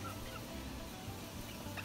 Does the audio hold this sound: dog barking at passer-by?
no